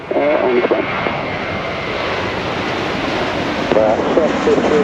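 Airliner engines roaring steadily at Gibraltar Airport, a loud continuous drone that fills the scene while radio voices from air traffic control cut in at the start and end.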